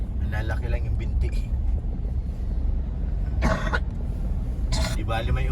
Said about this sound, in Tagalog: Di bali may ubo, basta walang sakit.